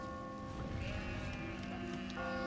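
Sheep bleat faintly in the puzzle video game Catherine, a few wavering cries over a steady low background hum of game ambience.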